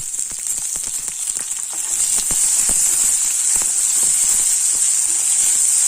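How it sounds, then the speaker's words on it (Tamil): Onion, garlic and tomato sautéing together in a pan for a spinach and curd side dish, giving a steady bright sizzle with a soft hiss and scattered crackles, close and continuous. "வெங்காயமும் பூண்டு வதங்கிட்டு இருக்க நேரத்தில் தக்காளி பழத்தையும் சேர்த்துறேன்"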